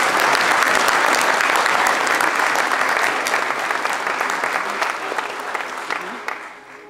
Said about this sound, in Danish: Skal vi lige give hende et stort bifald?